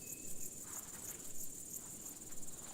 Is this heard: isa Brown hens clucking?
no